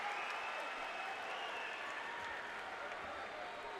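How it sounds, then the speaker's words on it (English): Sustained crowd ovation and applause at a college basketball game between UAB and WKU as a player checks out, a steady broad wash of clapping and cheering from a large arena audience. "They know that man deserved a big cheer as he checked out of the game."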